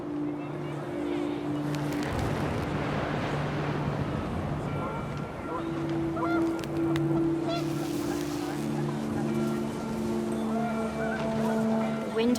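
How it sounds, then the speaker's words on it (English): Panicked geese honk in What Remains of Edith Finch, scattered calls rising over wind and ambient game sound, moderately distant and continuous for several seconds. "panicked geese appeared and quickly went"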